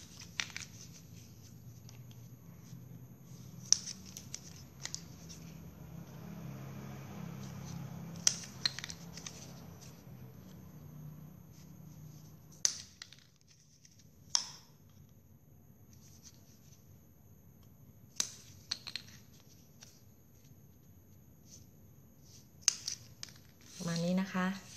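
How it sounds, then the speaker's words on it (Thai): Scissors cutting plastic drinking straws for a straw flower craft, several sharp snips and clicks spread across a quiet tabletop scene with someone speaking softly in between. "แล้วก็นำกรรไกรมาตัดออกประมาณ1นิ้วนะคะ"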